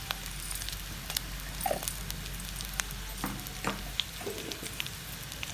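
Onions and dried red chillies fry in a pan with turmeric for a chicken fry, giving a low, steady sizzle broken by a few light clinks of a spoon.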